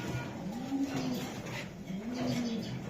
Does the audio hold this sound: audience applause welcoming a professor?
no